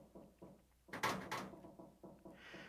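A locked door in the game 999 rattles and thumps when tried, two louder clattering jolts in the middle framed by softer knocking, heard faintly and close without speech.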